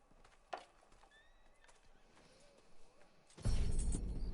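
A horse in the Western video game Red Dead Redemption gives a clear whinny over quiet ambience, with a few hoof clops, before a loud broadband rush takes over near the end.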